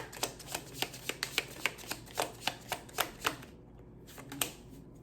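A Rebel Oracle card deck is shuffled during a pick-a-card reading, giving a quiet, rhythmic series of about fifteen crisp card snaps that stops briefly before a couple of final taps.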